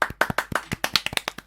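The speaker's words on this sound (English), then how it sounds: "Round of applause right next to the mic." Fast, sharp hand claps right beside the microphone, about a dozen loud dry smacks in quick rhythmic succession with no talking.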